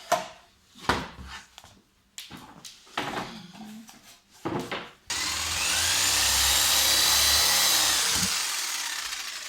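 An electric jigsaw cuts material for a homemade fireplace. A few sharp knocks and handling clatters come first, then a loud, steady buzzing cut runs unbroken from midway to the end.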